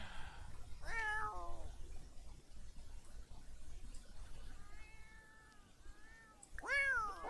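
Meows from a cat in The Sims 4 at a vet clinic: a drawn-out meow near the start, softer mewing midway, and a loud wailing meow near the end, over quiet game background.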